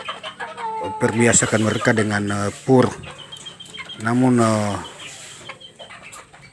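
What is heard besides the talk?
chickens clucking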